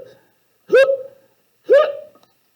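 A hiccup sound effect in a spoken ghost-and-skeleton story: two loud, distinct hiccups about a second apart, each a sharp squeaky gulp, heard alone without talk.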